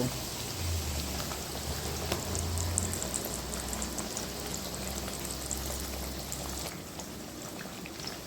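Potato slices for homemade chips sizzle in hot oil over a low flame, a steady close crackling hiss with soft bubbling that runs evenly and then drops away near the end.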